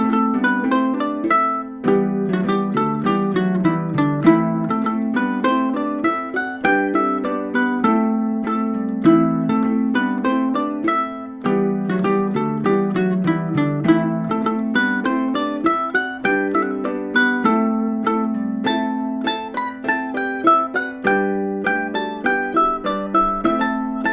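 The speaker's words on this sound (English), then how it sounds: "Ballet Desmond Polka at 100." A ukulele plays the Celtic tune Ballet Desmond Polka at 100 bpm, bright plucked notes in a lively, steady rhythm, close and solo for over twenty seconds with no talking.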